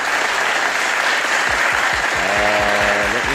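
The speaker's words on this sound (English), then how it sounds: "Let me clap it up for you." Hands clapping in quick succession, loud and close, sitting over a steady bed of background noise with no one talking.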